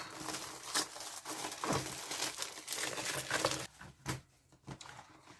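A plastic clothing-haul package being torn open and handled, with close crinkling and rustling in bursts. A few sharper rips come near the end, and no one speaks.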